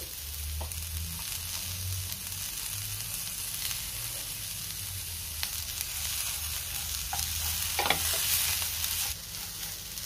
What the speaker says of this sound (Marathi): आता ह्यामध्येच मी टोमॅटो घालतेय आणि टोमॅटो सुद्धा आपल्याला परतून घ्यायचा आहे।